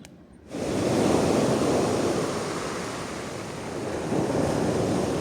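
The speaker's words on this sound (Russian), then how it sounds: "здесь большая волна все-таки" Large sea waves break on the shore at Pitsunda, Abkhazia, in winter, a loud, steady, close roar of surf mixed with wind noise that swells briefly without pause, and no voices.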